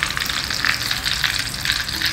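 Banana slices deep-fry in hot oil, giving a steady, dense crackling sizzle with bubbling pops throughout, close and continuous.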